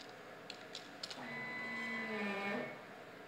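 A 5-axis CNC machine with its motor whining faintly and steadily as it traverses along the X axis, preceded by a few soft clicks, quiet and alone.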